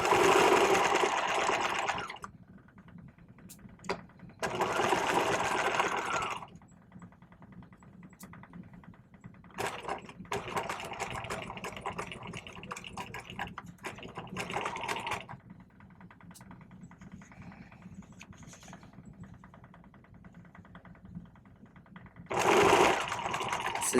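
A sewing machine stitches the lining of a vest around a welt pocket, running in several loud bursts of rapid mechanical whirring separated by quieter pauses, with one final burst at the end.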